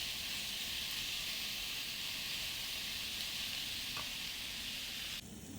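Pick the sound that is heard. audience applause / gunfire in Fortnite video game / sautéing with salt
sautéing with salt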